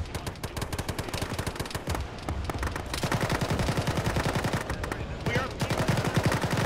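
Rapid automatic gunfire crackles through a military video game firefight, bursts layered densely and continuously, with a voice speaking briefly over the shooting.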